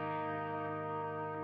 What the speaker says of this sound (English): That guitar is so sweet.